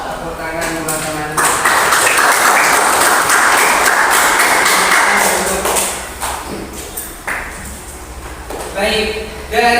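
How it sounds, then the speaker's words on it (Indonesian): A classroom of students breaks into loud applause that lasts several seconds and then fades, with a teacher's voice talking before and after the clapping. "Tepuk tangan teman-teman"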